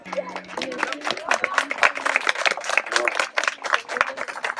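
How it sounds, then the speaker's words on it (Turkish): Audience applause for Ayşe Hanım at a Dünya Özgürlük Günü event in Northern Cyprus: dense, steady clapping from a crowd throughout, with some voices and a brief tone at the start. "Ayşe Hanım'a büyük bir alkış."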